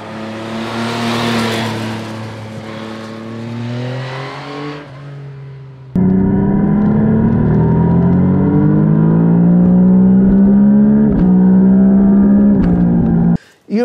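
A 2021 Yamaha Tracer 9 GT motorcycle engine revs and drones with rising, falling pitch, then jumps to a steady, harsher roar that holds before cutting off abruptly.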